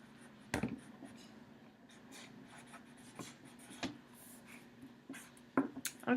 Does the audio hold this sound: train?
no